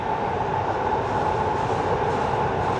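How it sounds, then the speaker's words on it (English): A train rumbles steadily across an overhead metro bridge on the Newcastle Quayside, a continuous loud roar with a broad rattling hum and no voices. "there's a train going across the top by the noise coming off the bridge there"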